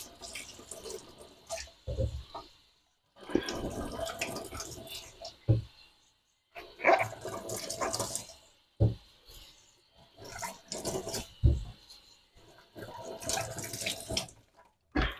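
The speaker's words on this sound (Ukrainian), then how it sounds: "Тепер беремо яблука, я їх мию за кадром." Apples being washed under a running kitchen tap for an apple and cottage cheese grated pie, water splashing in several close bursts separated by short pauses, with someone speaking at times.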